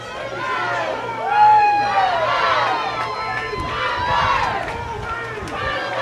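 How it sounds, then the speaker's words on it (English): Football crowd at a Rockingham County high school game cheering after a touchdown, a loud swell of shouts and whoops from many voices that peaks, eases and rises again, heard at a distance. "The fans erupt."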